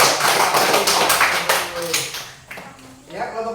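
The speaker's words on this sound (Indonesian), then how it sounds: "tepuk tangan dulu" A school class of students applauds together, a dense burst of hand clapping that fills the room and then tapers off into scattered claps and voices.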